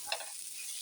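Halved onions and a few garlic cloves sauté in coconut oil with popped mustard seeds in a pan, giving a faint, steady sizzling hiss with a small crackle at the start.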